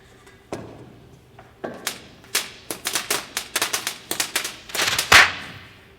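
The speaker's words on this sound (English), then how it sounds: "Penny, what do you think of these little firecrackers we just made up?" A string of small homemade firecrackers pops in quick sharp cracks, sparse at first, then bunching into a rapid crackling burst with a final louder bang, heard at moderate distance in a quiet room.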